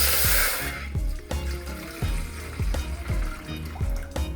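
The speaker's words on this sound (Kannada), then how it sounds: "ನೀರು ಹಾಕೊಳಕತ್ತೀನಿ." Water pours briefly into a pan of ghee-fried cashews and almonds while pineapple shera cooks, a short broad rush followed by repeated soft stirring knocks and scrapes.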